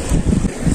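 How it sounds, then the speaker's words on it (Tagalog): Strong wind blows at the seashore during shore casting, with whitecaps and big waves on the sea, roaring as heavy buffeting gusts close across the microphone throughout. "Mahangin ngayon, sigurado rinig niyo yung hangin."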